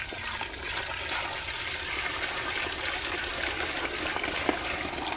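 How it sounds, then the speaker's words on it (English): Water bubbles and splashes steadily in a small budget DIY outdoor fountain driven by a plug-in pump, a continuous close trickling gush with no voices. "I plugged in the cord, and it started right up with a beautiful bubbling sound"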